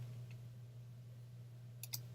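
A computer mouse gives a few faint, sharp clicks, one early and a quick pair near the end, over a quiet steady electrical hum.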